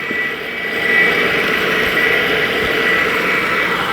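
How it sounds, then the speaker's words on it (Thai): A loud rice milling machine drones steadily with a constant mechanical hum and whine, running continuously without pause and with no talking. "เสียงเครื่องอาจจะดังไปหน่อย เพราะว่าเราต้องสีข้าวนะครับ"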